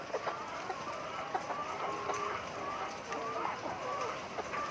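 Fourteen-week-old laying pullets cluck and chatter in a busy coop, many overlapping calls at moderate distance over a steady background hum.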